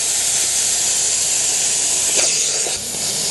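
A carpet cleaner steams a dirty couch, giving a loud, continuous close hiss with brief shifts in spray near the end.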